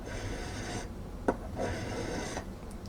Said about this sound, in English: You want a flat file right across here, and then periodically check it by fitting the knob to it